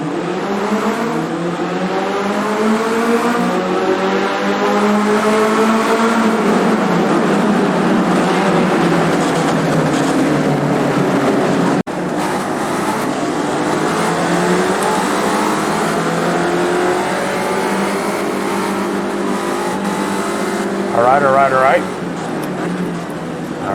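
Spec Racer Ford race cars at Tsukuba in iRacing pull away from a race start, engines revving loudly through rising gear changes, with a continuous dense roar and occasional talk.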